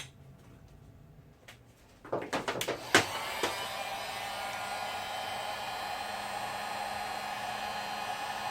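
A heat gun shrinks heat shrink tubing while a Mazda MX-3's battery is relocated for track use. A few sharp clicks come first, then a steady, close blowing roar runs to the end.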